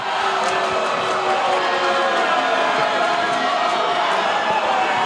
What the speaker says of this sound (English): you could hear this crowd show their disapproval